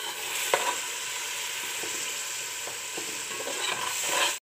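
Green chilli, ginger and coriander paste sautés in a pan for chicken dum biryani, a continuous sizzle with several sharp spatula scrapes and stirs spread through it, no talking.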